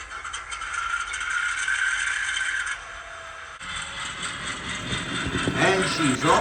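A model train locomotive runs on a home layout, giving a steady mechanical hum and rattle that shifts partway through, with light clicking and voices talking over the running sound.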